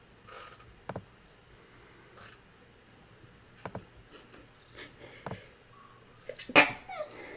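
A single sharp sneeze bursts out near the end of a quiet indoor tabletop role-playing game session, preceded by scattered soft clicks and taps.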